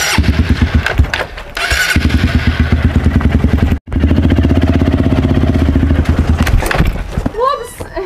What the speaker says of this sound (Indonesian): Put, aku sudah beli motor baru Put.